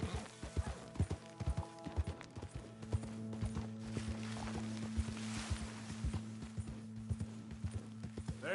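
Horse hooves clip-clopping at a steady trot in the video game Red Dead Redemption 2, a close, regular rhythmic beat over a low humming game soundtrack with sustained tones.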